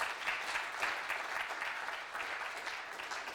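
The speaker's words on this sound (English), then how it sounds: "A round of applause for Justin." Sustained audience applause at a London trading conference, a dense steady patter of many hands clapping at once, loud and continuous throughout.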